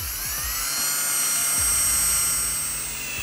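An eraser wheel on a power drill spins steadily against the body of a C8 Corvette to remove adhesive residue, giving a loud, close, high continuous whine, with no talking.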